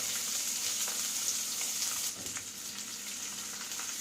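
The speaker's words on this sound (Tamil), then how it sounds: "வெங்காயம் வதங்குறதுக்கு உப்பு சேர்த்துக்கலாம்." Onions sautéing with rock salt in a pan, giving a steady close sizzle with faint crackles throughout, a little softer in the second half.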